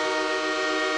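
A loud, sustained train horn blares steadily, its rich layered tones holding without a break.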